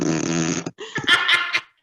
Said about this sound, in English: I think we may have just caught our first fart on Zoom.